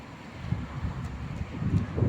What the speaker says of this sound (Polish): Jest troszkę wiatr.